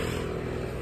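Harley-Davidson 883 motorcycle engine idling close by, a loud steady low rumble with a fine regular pulse, no pause.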